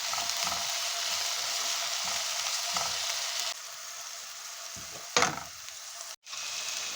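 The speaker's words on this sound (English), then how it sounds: "Ginger garlic paste 2 tablespoons. Saute for 2 minutes on medium heat." Two tablespoons of ginger garlic paste sautéing in a pan over medium heat, a steady close sizzle with intermittent stirring, the sizzle dropping slightly partway, then a brief scrape and a momentary cut.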